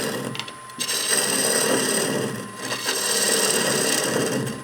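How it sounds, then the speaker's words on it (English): Bowl gouge cutting a spinning wooden bowl on a lathe, a steady continuous scraping hiss with a brief dip partway through, close and fairly loud with no talk. "And then back to the trusty bowl gouge."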